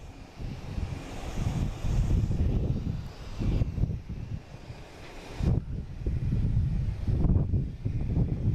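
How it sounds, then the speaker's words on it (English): American Airlines Airbus A319 jet arriving from Chicago and landing on runway 4 right, heard as a rumbling engine roar that swells and dips in waves, with wind buffeting the microphone. "Coming in from Chicago, an A319, landing on 4 right"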